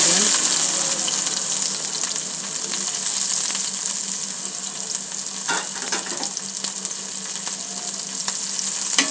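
Onions frying with cumin seeds and whole dried red chillies in a pan, a steady dense sizzle running throughout at close range with a few faint stirring scrapes.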